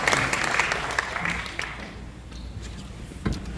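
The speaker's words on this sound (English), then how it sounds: "Let's give them a round of applause." A seated audience applauds at a Miami Herald public meeting on human trafficking, clapping loudest at the start and thinning out toward the end, with scattered individual claps and a faint voice.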